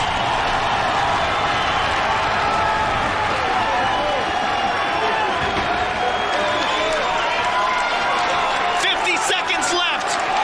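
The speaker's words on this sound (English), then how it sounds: "This crowd is going nuts" A UFC arena crowd roars continuously for the whole stretch, a dense, loud wall of cheering and shouting with no clear breaks, swelling slightly toward the end.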